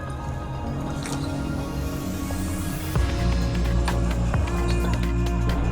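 Mutton keema vada mix with roasted gram being kneaded by hand in a bowl, giving steady wet squelching and dripping sounds that grow louder partway through, with a constant background hum and no talk.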